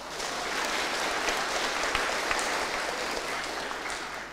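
Sustained, dense applause from a large graduation crowd at a university ceremony in Riau, steady and loud throughout with no break.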